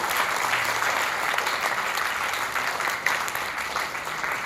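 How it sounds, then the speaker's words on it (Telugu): An audience at a kung-fu self-defence event bursts into steady, dense clapping from many hands, sustained loudly for several seconds. "మీరందరూ కొంచెం చప్పట్లు కొట్టాలని నేను కోరుతా ఉన్నాను"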